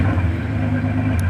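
Large 4500cc Toyota Land Cruiser engine fitted with a hydrogen kit, running at a steady idle with a loud, close, even rumble and no voices.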